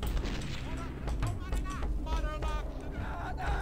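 Explosions and gunfire rumble through the first-person shooter game Blood, dense and continuous, with bursts layered over screams and game noise and someone talking over it.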